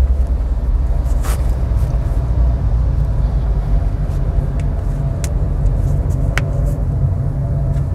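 A car's steady low engine rumble and road noise, heard from inside the cabin on a road with a 60 km/h limit, running evenly throughout with a few faint clicks and no clear rise in pitch.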